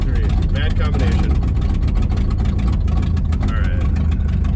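A 1960 Chevrolet Impala's rough-running 283 V8 with open exhaust rumbles loudly and unevenly at close range, a deep, constant throb with someone talking over it.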